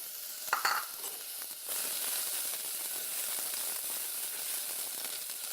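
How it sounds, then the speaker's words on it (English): Julienned ginger hits a little hot oil in a pan, a brief stirring clatter giving way to a steady, fairly quiet sizzle that carries on alone. "The moment you add ginger to the oil, a very nice sweet smell comes out."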